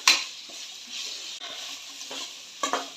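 Chopped capsicum stirred into ginger garlic paste frying in a pan for capsicum rice, a close sizzle with a few spoon scrapes against the pan, no talking.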